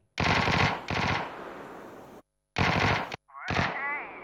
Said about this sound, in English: I got shot at from down here right now by this guy